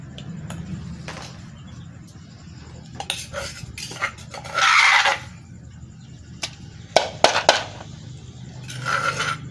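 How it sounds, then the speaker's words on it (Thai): Food is scooped and stirred in a wok, with metal utensils scraping and clanking against the pan in irregular bursts and a longer scrape midway, all fairly close and without speech. "ตักใส่กระทะจ้ะ"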